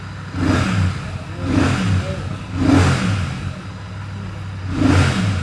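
A Royal Enfield Shotgun 650 Bobber motorcycle engine revs up four times in a steady rhythm, each throttle blip rising and falling over a low idle, close and loud.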